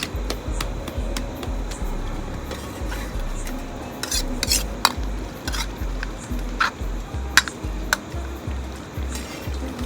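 A spoon stirs green turmeric curry with yogurt in a pot, giving repeated soft scraping and clinking strokes against the metal under a low steady background hum.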